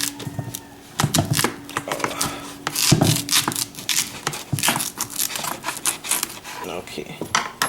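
A knife cuts a sweet potato in half on a cutting board, giving repeated sharp clicks and knocks of the blade against the board, close and moderately loud, with no voices.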